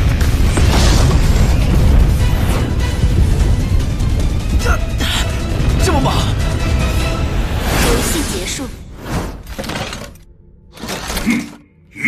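A mothership blows up in an animated space battle: loud, dense booming and crashing debris roars on without a break for about nine seconds, then breaks into sharper bursts and whooshes before fading.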